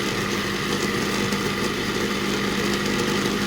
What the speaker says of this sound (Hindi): आप देख सकते हैं कितना ज़बरदस्त जो है वो ग्राइंड हो रही है।